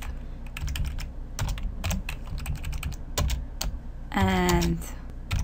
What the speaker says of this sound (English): let's type our message